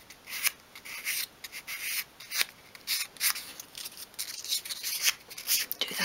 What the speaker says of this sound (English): Take a piece of fine grade sandpaper and just sand that over.